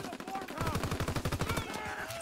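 Rapid automatic gunfire in Call of Duty on a Modern Warfare 2–style open map, a fast burst of about a dozen evenly spaced shots lasting roughly a second, surrounded by game noise.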